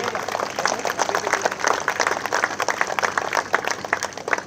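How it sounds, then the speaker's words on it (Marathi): A crowd claps loudly and steadily for a kabaddi player at a district-level tournament match, with dense, continuous applause throughout. "जोरदार टाळ्या करायच्या मित्रांनो या खेळाडूसाठी"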